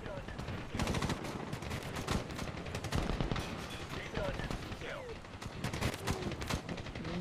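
Gunfire in a Medal of Honor first-person shooter: bursts of rapid automatic shots and single cracks crowd the scene, loud and dense throughout, with a player's voice talking over parts of it.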